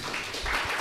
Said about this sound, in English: Let's applause them again.